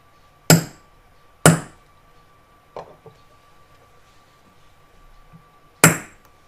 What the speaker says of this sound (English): work round each of the marks to create all of the centre punch divots